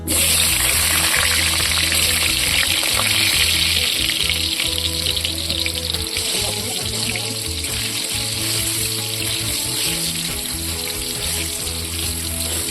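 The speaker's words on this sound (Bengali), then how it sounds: "এবার দিয়ে দেবো কড়াইতে আলুটা ভেজে নেবো।" Potato pieces frying in hot oil in a wok for a mutton dish, giving a steady, loud, close sizzle with bubbling crackle that continues throughout, no voices.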